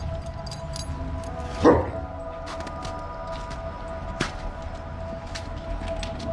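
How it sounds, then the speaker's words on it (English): A dog in a pack feeding on a deer carcass gives a single short, sharp growl-bark to warn another dog off its food, with faint chewing and background noise before and after. "K-Bar telling Badge not to get too close to the portion he's eating"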